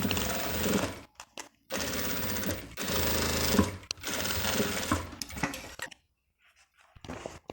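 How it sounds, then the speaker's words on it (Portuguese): A sewing machine stitches fabric lining on a zippered cosmetic bag, running in three steady, rapid buzzing bursts separated by short stops, followed by quiet handling. "E vou fazer a minha costura agora, prendendo o forro para o lado de baixo, porque a parte mais fininha ele não vai sair do lugar na máquina"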